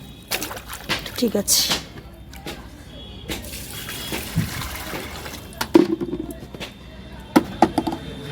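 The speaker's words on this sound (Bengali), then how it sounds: "এটা গরম জল গামলায় দিয়ে দিয়েছি। একটু মেশাতে হবে" Hot water being stirred by hand in a basin at home, intermittent close sloshing and splashes with a short spoken phrase in between.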